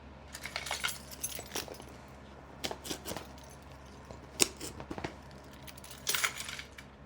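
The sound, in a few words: keys jangling while being handled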